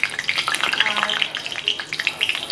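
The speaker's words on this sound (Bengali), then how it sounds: "তেলটা গরম হয়ে গেছে, সর্ষের তেলটা, এর মধ্যে আমি দুটো শুকনো লঙ্কা এইভাবে ছিঁড়ে দিয়ে দিলাম" Dry red chillies torn into hot mustard oil give a steady, close crackling sizzle with dense spitting pops throughout, no voices over it.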